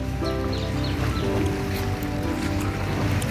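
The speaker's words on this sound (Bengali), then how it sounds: "চারপাশে জলের আওয়াজ শুধু এই হলো একটা হাউস বোট" Water moves around a moored houseboat at Barrackpore near Kolkata, heard as a steady, close, rumbling wash with a low churning undertone that carries on without a break.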